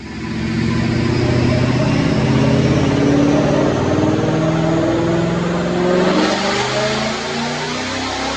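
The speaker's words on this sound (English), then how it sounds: "when I make the dyno pull, I'm gonna be targeting over 680 real world horsepower would be my goal" A 2015 Mustang GT with a Whipple supercharger and BBK headers on a dyno pull, loud sustained engine roar climbing through the revs close up, then easing off near the end.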